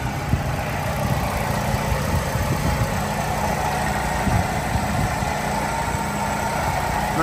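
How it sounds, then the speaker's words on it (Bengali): A 2010 Hyundai Accent with a small 1600cc engine idles steadily, a continuous close mechanical hum with light vibration and no change in revs. "ইঞ্জিন সাউন্ডটা দেখেন, 1600 সিসি"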